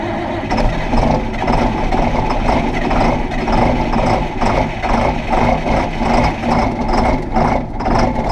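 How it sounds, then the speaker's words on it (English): A truck engine runs on a cold start with the throttle cracked open, a loud, close, rough idle with a steady rhythmic pulsing throughout and no talking. "I guess I'm gonna do a nice little cold start. Got my throttle cracked, so here we go."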